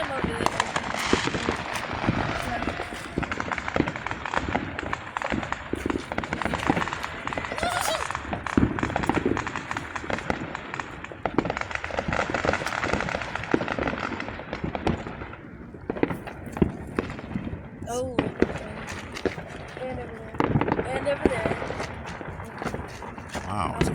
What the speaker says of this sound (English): there are lots of fireworks going off right now